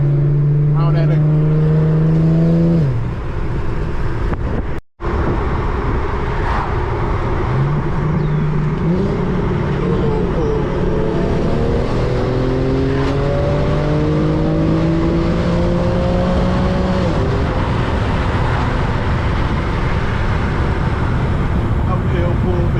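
A rear-wheel-drive Infiniti G37 pulls hard uphill on a backroad, its engine revving up to about 7,500 RPM. There are repeated loud climbing engine notes with brief drops at the gear shifts, heard from inside the car.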